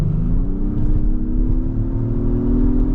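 A steady Acura MDX Type S engine drone with a low exhaust rumble in Sport Plus mode, holding loud and even for a few seconds with no one speaking.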